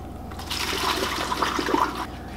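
Water pouring steadily for a couple of seconds, a gurgling stream topping off a jar of mushroom mead up close.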